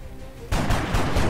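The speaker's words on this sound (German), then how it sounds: "Aber dass alle drei Schüsse daneben gehen, ist natürlich schon ein bisschen ekelhaft." Gunfire in the video game X-Com: The Long War, a soft lead-in then a sudden loud burst of shots about halfway through, with further sharp cracks repeating close and dense to the end.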